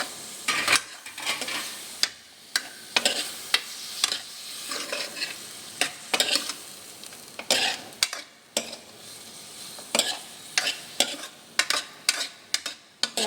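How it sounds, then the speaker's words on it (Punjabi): Onions and chillies frying in masala in a pan, steady sizzling broken by frequent quick spatula scrapes and stirring strokes, close and fairly loud. "ਪਿਆਜ਼ਾਂ ਨੂੰ ਅਸੀਂ ਜ਼ਿਆਦਾ ਗਾਲਣਾ ਨਹੀਂ ਬਸ 2 ਮਿੰਟ ਨੂੰ ਟ੍ਰਾਂਸਪੇਰੈਂਟ ਵਾਂਗੂ ਜਿਵੇਂ ਕਰੀਦਾ ਥੋੜਾ ਭੁੰਨਣਾ ਹੈ"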